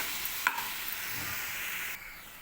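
Mint and green chillies frying in a pan as they are stirred, with a steady sizzle, a sharp clink of the utensil early on and scraping stirs, close, no speech.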